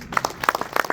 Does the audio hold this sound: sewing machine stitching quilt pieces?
no